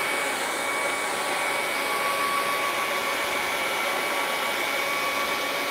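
A hair dryer blowing steadily on wet acrylic paint, a constant close whooshing drone with no breaks and no talking.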